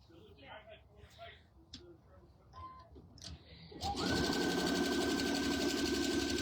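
A sewing machine zigzag stitching a diagonal drawstring bag starts up loud and close near the four-second mark, then hums steadily, with faint talk and handling noises before it.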